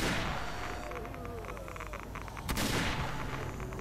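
A hand cannon fires in a S.T.A.L.K.E.R.-style shooter during a mutant fight, sharp loud blasts in quick succession with a heavy booming report near the end.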